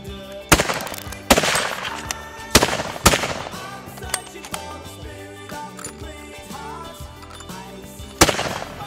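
Rifle shots during a Cape buffalo hunt in South Africa, with several sharp loud cracks spaced irregularly and ringing echoes between them, close and dominating the scene.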